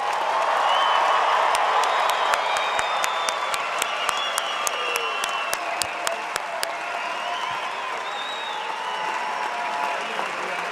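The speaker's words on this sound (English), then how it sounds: "Now let's all give the class of 2022 a big round of applause." Applause and cheering from a large audience for graduates at a Penn State fall commencement ceremony, a dense sustained wash of clapping with whoops, fairly loud and steady before easing slightly toward the end.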